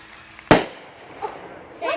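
Fireworks explode overhead with one sharp, loud bang followed by fainter pops and crackles, while people talk nearby.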